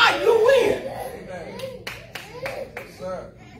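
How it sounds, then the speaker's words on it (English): A voice speaks briefly, then a church congregation breaks into scattered, loose hand claps that continue at a moderate level. "Thank you for the hand clap."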